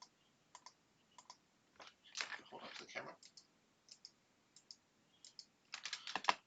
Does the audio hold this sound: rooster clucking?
no